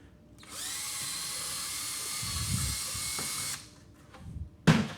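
A power drill with a 1/8 inch bit whines at a steady high pitch for a few seconds, then stops, followed by a short clatter.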